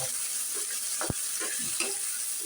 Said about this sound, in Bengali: আমি আবার আদা রসুনটা দিয়ে দিচ্ছি এক চামচ আদা কাটা এক চামচ রসুন